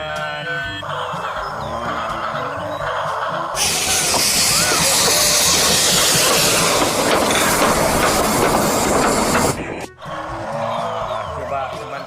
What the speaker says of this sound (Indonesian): Kereta apinya mengelilingi mainan.